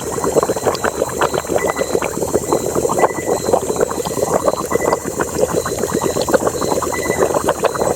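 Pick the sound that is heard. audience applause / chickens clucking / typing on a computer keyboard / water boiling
water boiling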